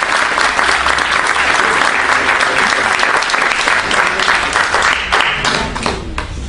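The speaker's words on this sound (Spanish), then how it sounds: "Con este aplauso le damos el micrófono a Augusto González." An audience at an evening political talk in Quilmes, Argentina, claps loudly and steadily to welcome a speaker to the microphone. The dense applause fills the room without a break and starts to thin near the end.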